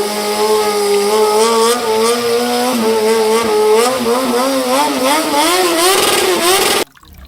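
A toy racing motorcycle gives off a loud electronic engine sound, a continuous whining rev that rises and wavers in pitch for about seven seconds and then cuts off abruptly.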